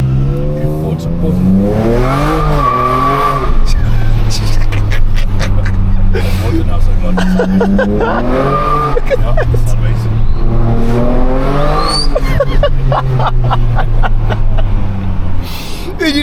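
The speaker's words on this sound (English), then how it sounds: "You just tap on the throttle and she's sideways, man." A Ford Ranger Raptor slides sideways on throttle, its engine revving and tires squealing in long rising and falling wails, loud and close, with someone talking briefly over the noise.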